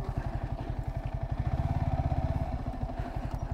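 A Yamaha motorcycle engine idles close by with a rapid, even thumping pulse that quickens briefly in the middle before settling, loud and steady with no talking.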